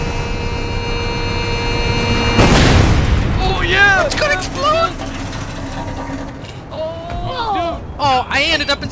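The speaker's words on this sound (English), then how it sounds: "It's gonna explode!" A single loud boom from a van blowing up in the video game APB Reloaded bursts out after a few seconds, then fades under an idling engine hum while people speak and laugh.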